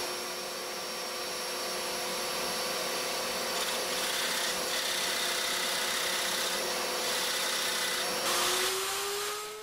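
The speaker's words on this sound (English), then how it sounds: "So I'm going to head over to the drill press now and drill these out." A drill press bores a row of holes, spaced three inches apart, through a wooden weather station board, giving a steady loud whirring motor drone with grinding bite through the wood, close up and without talk.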